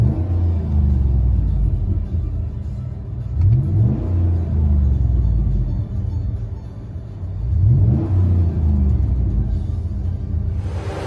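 Cabin-side engine drone of a GMC Yukon fitted with an 18-inch-body Magnaflow muffler and a 4-inch tip, a steady low rumble that swells twice as the engine is revved or accelerates.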